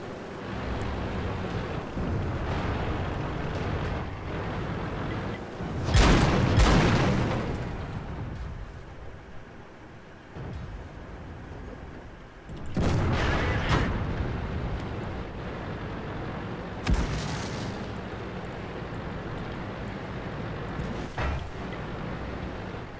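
Tank cannon fire and shell impacts in World of Tanks, heavy booming bursts scattered across a low rumbling battle background, a few loud blasts standing out with quieter thuds between.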